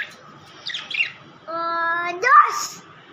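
Pet Australian parrots give short chirps and a squawk with a harmonic, whistled tone, close and fairly loud in a quiet room, heard alone in brief bursts.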